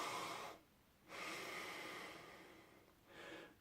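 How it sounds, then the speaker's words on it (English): Slow diaphragmatic yogic breathing, close and soft: a long breathy exhale, a pause, a second long airy breath, then a shorter one, with no talking. "the lower, which is breathing from the diaphragm"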